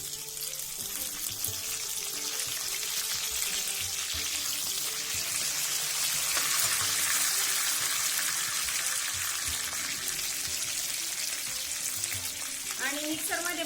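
Curry leaves and cumin seeds hit hot oil for a tempering, a loud, dense sizzle and crackle running steadily throughout, with a brief stirring scrape near the end.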